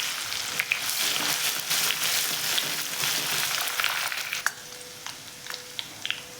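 Garlic and coriander paste fries in hot oil with mustard seeds in a kadhai, giving a steady close sizzle with small crackles and pops throughout.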